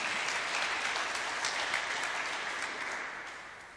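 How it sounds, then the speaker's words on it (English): A congregation applauds the preacher during a bishop's installation service, a steady, dense wash of clapping that fades slightly toward the end. "Let's give the preacher a round of applause"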